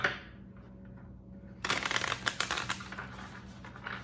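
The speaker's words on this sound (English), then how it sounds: "I'll do a quick shuffle on these cards." Tarot cards being shuffled up close: after a quiet start, a rapid riffling, slapping burst that continues in ragged flurries.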